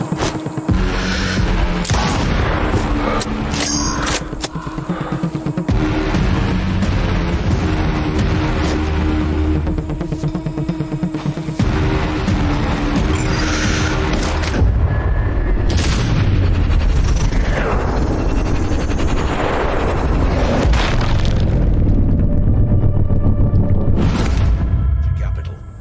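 Grenade explosions and gunfire in the shooter game Sniper Ghost Warrior Contracts 2 produce loud, dense booms and crackling blasts over continuous music and effects, with a large rumbling burst near the end.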